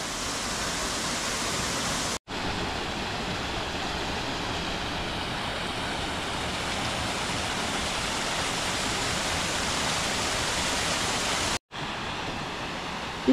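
A steady, broad rush of a Lake District waterfall fills the scene, constant and moderately loud, briefly cut off twice by sharp dropouts.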